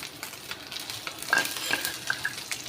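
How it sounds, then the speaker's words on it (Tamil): Cashews and another ingredient frying in a pan until golden brown, a soft steady sizzle with light stirring scrapes and a few brief higher clinks, close and moderately quiet. "ரெண்டையும் நல்ல கோல்டன் ப்ரௌன் வர வரைக்கும் நல்லா ஃப்ரை பண்ணிக்கோங்க"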